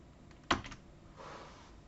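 A computer keyboard shortcut being pressed, one sharp close key click followed by softer key sounds in a quiet room.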